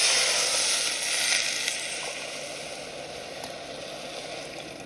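Hot water is poured into a pan of toasted rice, giving a hissing, bubbling sizzle that is strongest at first and then eases to a steady, fainter simmer.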